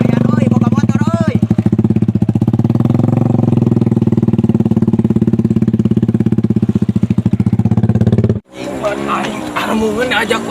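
A new motorcycle's engine idles loudly and steadily with a rapid pulsing throb, then cuts off abruptly; voices speaking Sundanese are heard after it stops.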